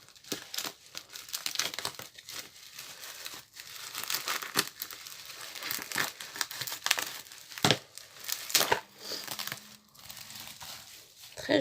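Bubble wrap crinkles and rustles in irregular bursts up close, with occasional sharper crackles as it is handled and pulled apart.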